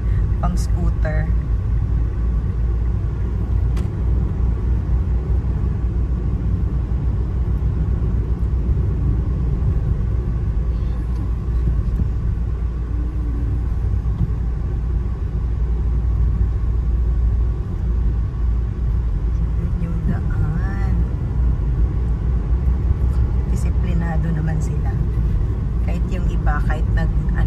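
Street traffic in Ho Chi Minh City, with scooters and cars passing in a constant close rumble of engines. Occasional horn-like tones cut through, and people talk over the traffic.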